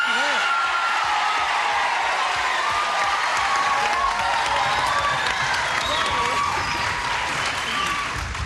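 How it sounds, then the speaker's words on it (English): A 1984 TV game show studio audience breaks into loud, sustained applause mixed with screams and whoops that hold steady throughout, with a voice speaking over it. "Screaming and applauding for death"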